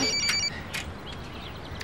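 A telephone rings with a short burst of bright, tonal ringing at the start, then gives way to quiet room noise with a couple of faint clicks.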